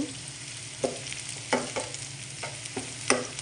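Onions frying in oil until brown while being stirred, a soft continuous sizzle broken by several sharp scraping strokes of the spoon across the pan.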